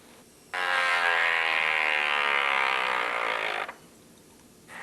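A spinning Yomega yo-yo, thrown as a hard sleeper, is run across tightly stretched paper, producing a loud, steady buzzsaw-like whir that lasts about three seconds before cutting off abruptly.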